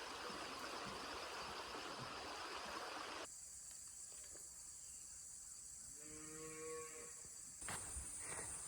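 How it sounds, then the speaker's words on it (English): A cow lowing on a hiking trail near a bridge in rural Virginia, a few close moos heard over steady outdoor ambience with a running stream and insects. "Literally a cow on the way."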